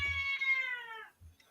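A cat meows once, a drawn-out, high, tonal call that rises and slowly falls, close and clear, followed by a brief soft rustle.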